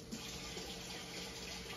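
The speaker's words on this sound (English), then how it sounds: "So now we need to fill this up with 2 cups of water at exactly 110 degrees." Water from a tap runs steadily to fill a container with two cups for baking pretzels, a continuous close splashing rush with no pauses.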